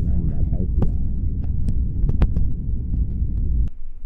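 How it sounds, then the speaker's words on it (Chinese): The cabin of a high-speed train rumbles with a loud, steady low drone and throb, broken by a few faint clicks and knocks, and no one speaks. "其实还是听得到那轰轰轰的声音"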